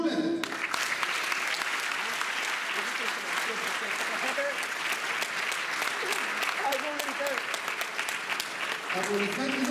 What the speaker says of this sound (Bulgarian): Аплодисменти за Стоян Жулев